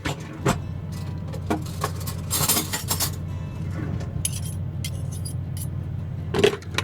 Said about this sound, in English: Let me grab a spoon.